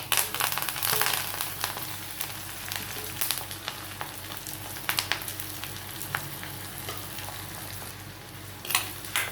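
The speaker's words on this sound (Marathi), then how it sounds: "मोहरी पण आपली व्यवस्थित तडतडली आहे" Mustard seeds spluttering in hot oil for a tempering before fennel and coriander go in for a thin poha chivada, a dense continuous crackle and sizzle with sharp pops, close and steady, no voices.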